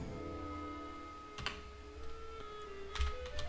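Light, faint keystrokes tapping on a computer keyboard at a steady, sparse pace, with a few sharper clicks standing out over a quiet electronic hum.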